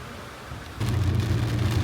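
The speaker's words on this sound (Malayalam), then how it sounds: "നല്ല മഴ പെയ്തുകൊണ്ടിരിക്കുകയാണ്" Steady hiss of heavy rain with a deep rumbling beneath, growing louder partway through, like a downpour heard from inside a moving vehicle.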